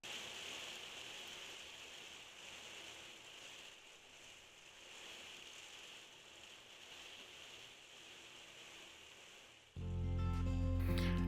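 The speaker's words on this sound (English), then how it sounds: "But then it started raining again." Rain falls steadily outdoors at a carport under renovation, a soft continuous hiss of drops at moderate distance, ending with a sudden louder low rumble near the end.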